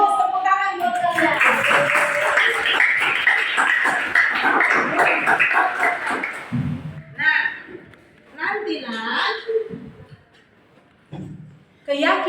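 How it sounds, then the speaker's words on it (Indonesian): Students clap in a classroom or hall, a loud burst of applause lasting several seconds before it fades, followed by scattered voices talking. "Bagus, tepuk tangan buat kalian."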